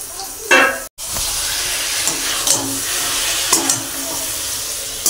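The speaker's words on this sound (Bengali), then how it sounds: "ভালো করে মাছের সাথে আমি মিশিয়ে নেবো মাছগুলো" Lote (Bombay duck) fish frying with spices in a pan, a loud steady sizzle and hiss broken by several scraping stirs and clanks of the spatula, close up.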